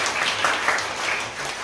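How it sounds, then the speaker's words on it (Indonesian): A church congregation applauds at a worship service, a loud, dense patter of many hands clapping steadily throughout the short moment. "Kita berikan tepuk tangan."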